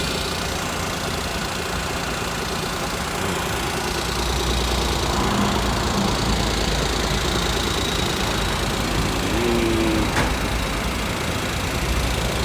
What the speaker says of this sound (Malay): Kita dah start enjin. Alhamdulillah. Kita bagi running dulu